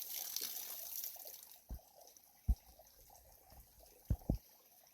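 Water drains and trickles from a gold prospecting pan outdoors on New Zealand's West Coast, a soft pour followed by a few faint splashes and drips.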